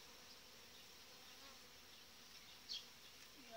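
Steady, dense buzzing of many honeybees inside a hive of an overcrowded colony covering 15 frames, close and continuous, with a brief louder flick of a wing or bee near the end.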